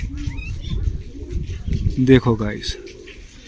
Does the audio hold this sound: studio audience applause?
no